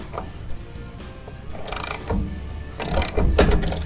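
A ratchet wrench loosens the blade nut on a RYOBI zero turn battery electric lawn mower, close rapid clicking bursts in several short runs with metallic handling between.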